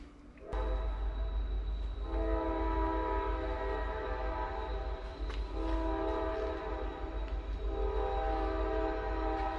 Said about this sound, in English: Nice background noise of the train.